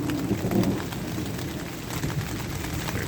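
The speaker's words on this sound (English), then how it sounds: "Starting to rain a bit." Rain starting to fall on a truck campsite during a thunderstorm: a steady broadband hiss of drops with low rumbling underneath, constant and fairly loud, no talking.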